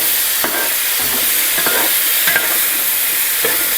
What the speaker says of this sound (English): So we're just going to saute these up.